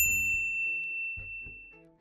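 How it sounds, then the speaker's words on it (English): A bright notification bell rings once and clearly, then rings on as a long, thin tone that slowly fades. Soft, low musical notes play underneath it. "ring the bell to get notified about our latest videos"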